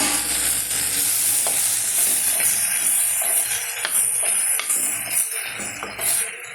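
Chopped tomato sizzles in hot oil in a pan while a spoon stirs and scrapes it, a continuous crackling fry broken by repeated scraping strokes and soft clinks close to the microphone.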